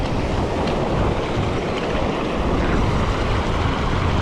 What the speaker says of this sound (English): Yeah, you can tell the waves are getting crazy.